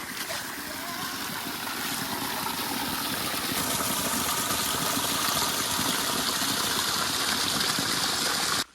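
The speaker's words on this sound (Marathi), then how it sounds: "आपला धबधबा" A forest waterfall in the Konkan gives off a dense, steady rushing roar that stays even and close before cutting off abruptly at the end.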